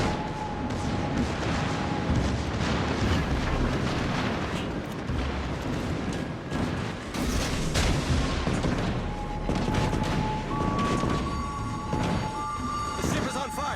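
An enemy battleship is blown apart and left burning in a naval video game: continuous heavy booms and rumbling explosions with crackling gunfire, loud and dense throughout, with a voice speaking over the din.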